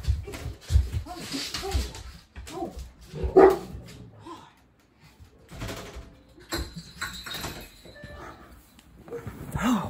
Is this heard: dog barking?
yes